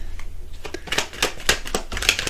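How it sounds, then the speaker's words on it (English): A deck of tarot cards is shuffled by hand, with a quick series of crisp, close riffling and flicking bursts repeating irregularly. "Here we go, shuffling the deck."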